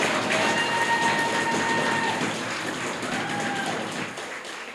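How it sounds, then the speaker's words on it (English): Lusty round of applause for an honoree at a school gala celebrating St. Andrew student athletes, a dense steady wash of clapping from a large seated crowd, loud and sustained, slowly easing near the end. "I think we need to give Kimmel a lusty round of applause"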